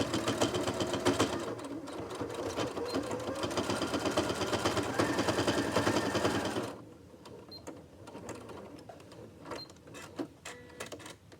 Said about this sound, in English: Now I'm going to sew this closed, making sure that I back stitch a couple of times so that it's really secure.